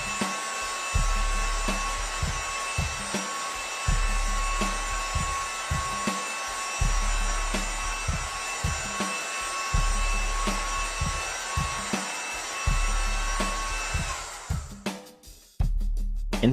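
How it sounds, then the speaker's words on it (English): A heat gun blows with a steady whirring hiss as it heats the edge of an iPad 2 screen, broken by brief pauses and clicks, then cutting out near the end. "Start with the heat gun on the left side and work your way around."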